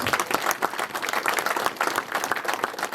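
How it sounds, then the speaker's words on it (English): A small outdoor gathering at a graveside wreath laying in Kilbannon claps for two boys, a dense, even patter of many hands filling the full few seconds without voices. "Give the two boys a round of applause"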